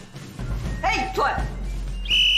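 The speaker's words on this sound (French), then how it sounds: "qu'est-ce que vous faites avec un sifflet?" A school supervisor blows a whistle in sharp bursts, with a sustained shrill blast at the end, while children's voices and chatter fill the background.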